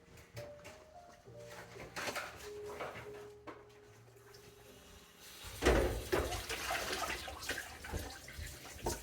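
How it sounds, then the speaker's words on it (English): A kitchen tap runs during washing up, a steady faint splashing stream broken by clinks and louder gushes of water partway through, heard close and alone. "He's just running that tap like a crazy mofo."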